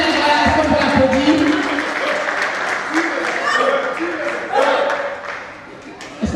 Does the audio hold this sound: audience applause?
yes